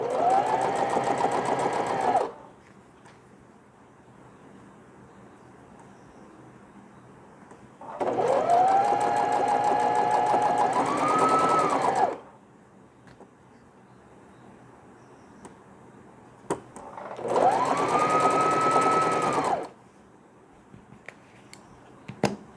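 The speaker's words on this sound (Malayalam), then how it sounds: "രണ്ട് ക്ലോത്തും ഒന്നിച്ച് സ്റ്റിച്ച് ചെയ്യുകയാണ്." A sewing machine stitches two pieces of cloth together for swaddle wraps in three loud, sustained runs of whirring motor hum, each a few seconds long, separated by quiet pauses.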